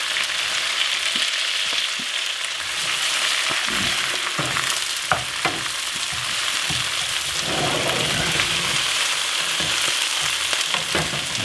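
Spinach sautéing in a hot pan, a continuous close, rain-like sizzle with scattered crackles and a few sharp clicks of stirring throughout, no voices.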